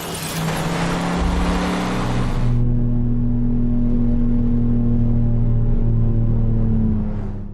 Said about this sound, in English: you can still drive around post-World War II Los Angeles, which has been meticulously recreated